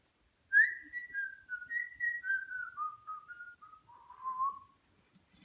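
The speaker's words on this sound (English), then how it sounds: "and he whistled as he went" Someone walking along a riverbank whistles a melodic tune alone, clear and fairly close, with notes gliding gradually lower over several seconds.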